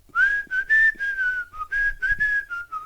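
A person whistles a wavering, slightly sliding tune in short repeated phrases, imitating a shaman; clear, close and alone, with brief gaps between notes.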